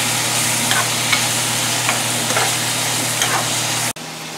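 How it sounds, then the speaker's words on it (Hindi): Tomatoes and peas fry in a pan, giving a steady close sizzle with a few soft stirring scrapes across it, then a sudden cut to a quieter hiss near the end. "देखिए हमारा यहाँ पे टमाटर और ये मटर फ्राई हो रहा है।"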